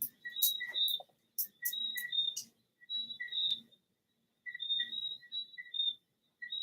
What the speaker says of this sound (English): you might hear like the tree frogs in the background going beep beep beep beep